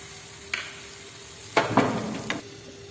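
Patishapta batter hits an oiled hot pan in short sizzling bursts, a faint hiss at first and then a louder crackling spread near the end, close and without speech.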